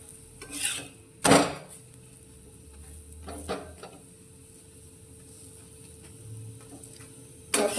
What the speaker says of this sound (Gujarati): તો આ રીતે આપણે બંને સાઈડથી તેને શેકવાના છે